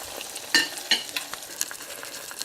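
An egg fries inside a cookie cutter in a pan for a bacon, egg and cheese breakfast sandwich, giving a soft, even sizzle with a couple of sharp metallic clinks and light scrapes.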